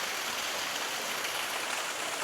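Mountain water pours down the Nydri waterfall, with a pipe carrying extra flow beside it, giving a steady, dense rushing roar that stays even and close throughout.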